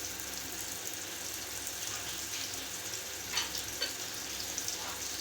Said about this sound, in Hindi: यूँ डिप करेंगे और यूँ ऑयल में ऐड कर देंगे